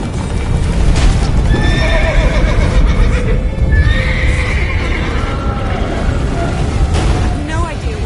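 A horse neighs over loud clip-clopping hooves and a heavy rumbling background in a video game featuring Geralt, with voices talking over the din.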